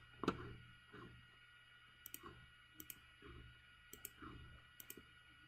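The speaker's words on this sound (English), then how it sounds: "You hear me clicking my mouse?" Computer mouse clicked at a desk, giving sharp, quiet clicks in small pairs at roughly one-second intervals over a low steady hum, with no talking.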